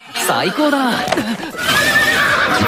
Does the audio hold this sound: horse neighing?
yes